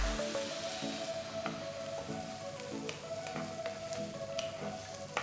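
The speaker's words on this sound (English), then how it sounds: "Saute the onions till they're a nice golden brown color." Finely chopped onions sauté in oil and butter in a white kadai, a steady close sizzle with frequent light crackles and stirring scrapes, no voices.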